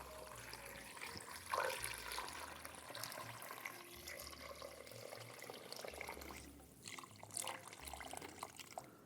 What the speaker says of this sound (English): So now we're just gonna add water.